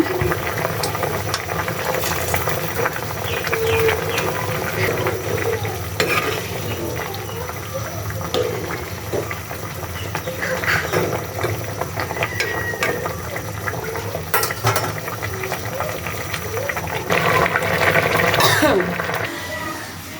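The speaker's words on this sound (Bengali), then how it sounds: "বলক চলে আসছে" A pot of taro curry with fish bubbles and simmers at a steady rolling boil, a continuous close wet burble with occasional clinks and a voice now and then.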